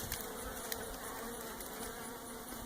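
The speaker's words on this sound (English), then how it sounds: "see a couple robber bees in there" Steady, continuous buzzing of robber bees at a hive during late-fall feeding, a dense insect drone with a few slightly louder passes close by, no voices.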